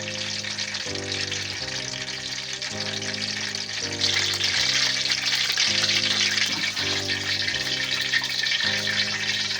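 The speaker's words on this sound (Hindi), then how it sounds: "और अब हम चिकन को पहले हाफ़ फ्राई करेंगे जी।" Chicken half-fries in hot ghee in a large pot, a loud, continuous close sizzle that grows stronger partway through, with steady background music underneath.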